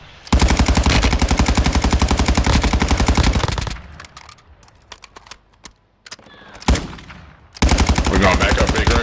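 Bursts of rapid automatic gunfire in a first-person shooter video game, loud and close, with a long sustained stream, a lull of scattered shots and clatter, then another heavy burst at the end.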